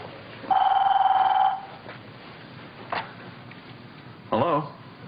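A telephone bell rings in a short trilling burst, followed by a faint click and a brief second partial ring, close and clear against a quiet room.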